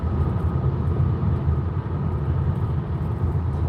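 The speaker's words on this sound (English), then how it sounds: "Back to noisy road." Steady, loud road noise from a moving Tesla on grooved pavement, a continuous low rumble of tires with no pauses.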